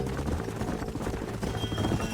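Horse hooves clip-clop in the video game Red Dead Redemption, a steady trotting rhythm with a brief whinny, mid-distance and moderately loud over ambient game sound.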